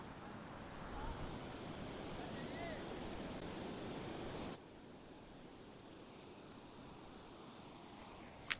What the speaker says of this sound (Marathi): लाटा बघा किती मोठ्या मोठ्या आहेत.